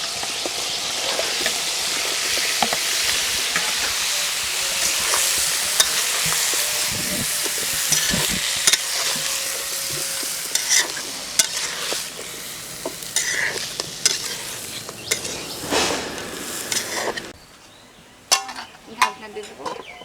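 Pumpkin pieces sizzle and fry loudly in a pan for a village-style chicken masala curry, with steady hiss and frequent scraping stirs from a utensil against the metal. The frying drops away near the end, leaving a few sharp clanks.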